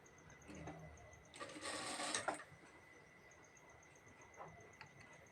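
A sewing machine runs a quick, dense burst of stitching on a cloth face mask, double-sewing the elastic in place, heard faintly in a quiet room with light ticking before and after.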